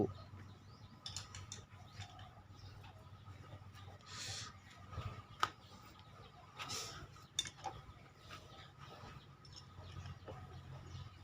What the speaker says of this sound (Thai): ไขน็อตพัดลมอยู่ครับ